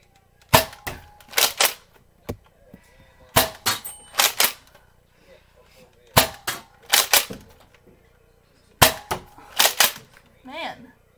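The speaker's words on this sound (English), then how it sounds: "now we can see it fire. You see that yellow target? That's what I'm gonna shoot." A Nerf Rival Kronos blaster firing foam balls at a yellow target, sharp snapping shots arriving in tight bursts of two or three with pauses between, loud and close.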